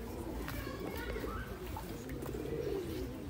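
Pigeons coo softly amid a busy outdoor crowd in Ghana, with voices and children playing in the background throughout.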